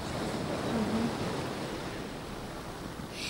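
Black Sea surf at Dagomys, a steady broadband wash of waves with wind, continuous and fairly loud with no talk.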